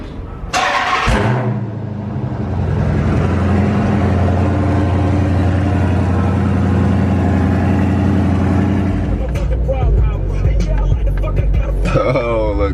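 A car engine cranks briefly, catches and settles into a loud, steady idle that runs for about ten seconds before a burst of other noise.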